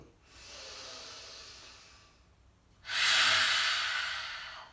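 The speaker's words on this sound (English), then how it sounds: "Long breath out through the mouth, tongue points out." A person does yoga lion's breath: a long breathy inhale, then a forceful, loud exhale through the open mouth with the tongue out, hissing and fading over a couple of seconds, close to the microphone.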